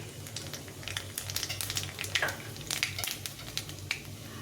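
Black cumin seeds fry in hot oil for a fish chachchari, giving a close, steady crackle with sharp pops and sizzling spits scattered throughout, no voices over it.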